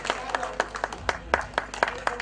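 Crowd applause at a live municipal public event in Godaita, Sarlahi, greeting a guest as they come onto the stage; scattered, steady clapping from an audience at mid-distance over a low background murmur.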